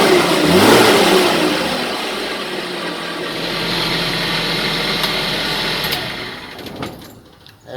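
A 2012 Suzuki Carry Box van engine revving in a steady, sustained roar for several seconds, close and fairly loud, easing off briefly near the end.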